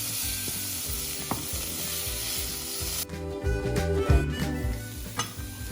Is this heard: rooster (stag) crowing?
no